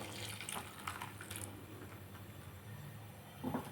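Milk is poured into a simmering almond mixture, a soft liquid splashing and trickling at close range for a few seconds over a low stove hum.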